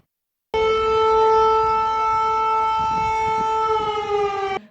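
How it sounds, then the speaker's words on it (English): A loud, steady air raid siren wails continuously for several seconds, a sustained tone that holds level before cutting off abruptly. "When there is an air raid siren,"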